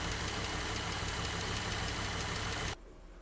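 A Jeep engine with lifter noise idles close by, giving a steady, dense rumble with a fast ticking undertone, then cuts off abruptly near the end.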